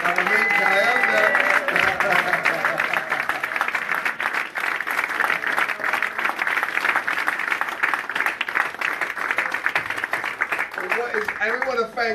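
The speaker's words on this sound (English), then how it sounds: "Give him a big round of applause" Audience applause in a mosque gathering for an elder, steady crowd clapping throughout with voices and cheering mixed in underneath.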